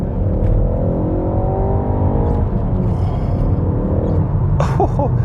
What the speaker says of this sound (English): The responsiveness of the engine is fantastic.